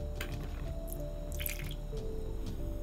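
Water drips steadily from a gram-stained microscope slide after a final rinse with distilled water, a series of small close drops and trickles over a low background hum.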